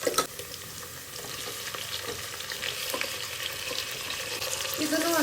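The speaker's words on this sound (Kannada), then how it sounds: "ಇದನ್ನು 1-2 ನಿಮಿಷ ಫ್ರೈ ಮಾಡ್ಕೊಳ್ಳೋಣ" Chopped onion gone translucent and freshly added tomato fry in a pan for a home-style vegetable dal, a loud steady sizzle with scraping stirs throughout and no talking.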